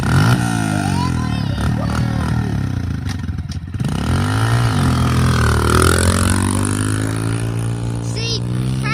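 Riding a rare motorbike, its engine drones steadily up close with revving swells and some clatter, while voices talk over it throughout.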